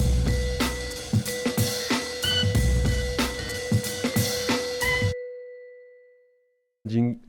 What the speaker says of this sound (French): Un jingle qui est en train de devenir numéro 1 dans les téléchargements pour les sonneries de portable